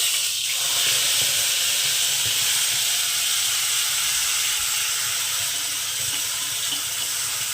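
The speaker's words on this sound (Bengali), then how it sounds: "এবার আমি যে মশলাটা আমি বেটে রেখেছিলাম সেই মশলাটাকে দিয়ে দেব সেই মশলাটা আমি দিয়ে দিচ্ছি" Ground spice paste sizzles as it meets hot oil in a pan for taro and prawn curry (kochu chingri). A steady, fairly loud hiss and crackle runs throughout, with no talking.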